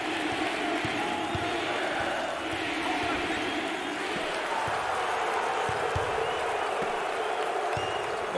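A basketball arena crowd at an NCAA tournament game, Drake versus Wright State, roars and cheers in a continuous dense wash, loud and sustained throughout.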